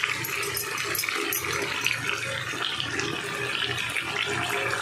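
Water poured into a blender jar holding leftover onion, ginger, garlic and green chili paste for chicken masala, a loud, steady splashing rush close by, with no talking.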